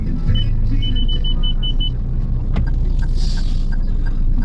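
Road traffic heard from inside a car driving near Marilao, a constant low rumble of the moving vehicle with a short series of faint beeps and a soft click.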